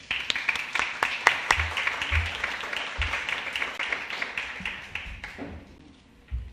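A crowd claps steadily, a dense patter of many hands that thins out and fades toward the end.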